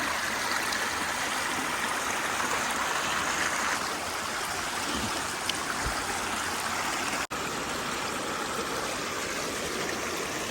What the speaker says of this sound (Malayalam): വെള്ളം നല്ല രീതിക്ക് തന്നെ വരുന്നുണ്ട്